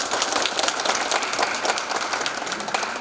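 An audience claps in sustained, dense applause at the opening of a library's 20th anniversary ceremony, loud and steady throughout with no talking.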